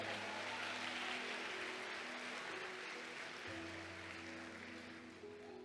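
A church congregation claps together in a steady, dense wash of applause that holds evenly throughout, with a low sustained organ or keyboard tone humming underneath.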